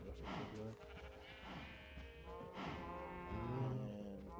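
Minecraft sheep bleating repeatedly in a farm pen, several overlapping baa calls close by over a steady game background, with no talking.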